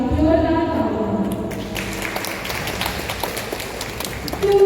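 At a Karam puja festival gathering, a tonal voice or music fades out and an audience breaks into a steady round of applause for the workers, a crowded patter of clapping that stays moderately loud.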